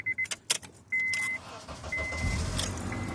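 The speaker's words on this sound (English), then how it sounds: "the car is starting good" A 2004 Honda Accord with a security-system fault cranks and starts, settling into a steady idle after some sharp clicks and key jingles near the start; the engine sounds close and moderately loud.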